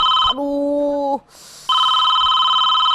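A telephone rings loudly and close in a steady electronic tone, breaks briefly into a lower warbling pattern and a short gap, then the bright ring resumes.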